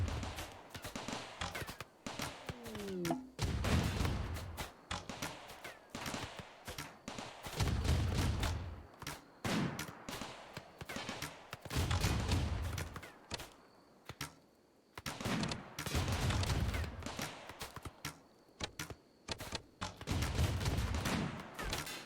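Turret gunfire in the colony-building video game RimWorld, dense repeated bursts of shots and thuds forming loud volleys with only brief lulls between them.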